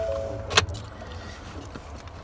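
Ford F-150 (2015–2019) ignition key turned off, giving one sharp metallic click and jingle of the key ring near the start. A low steady cab hum runs underneath.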